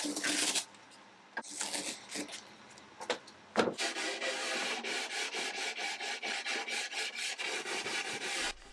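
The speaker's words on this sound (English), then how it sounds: "I did a bit more sanding because, you know, I love sanding." Hand sanding on the wood of an Art Deco chest of drawers being restored, a dry scratchy rasp that starts in short separate strokes, then settles into a steady rhythmic back-and-forth scrubbing, close and moderately quiet.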